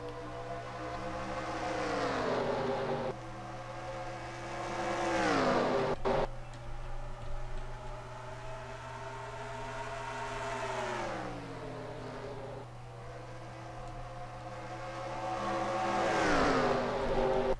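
Race cars roar past in the NR2003 sim at the Rheem 400, engine notes rising and falling in repeated Doppler sweeps as the field streams by, loud and continuous over a steady droning hum.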